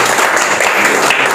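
Students at an English academy clap for a classmate being recognised, a short, loud, dense spell of applause from a nearby group.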